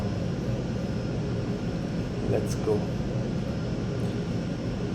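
An aircraft in the X-Plane 12 flight simulator game taxis on the ground with a steady engine drone under the voice of someone speaking briefly, plus a couple of faint clicks.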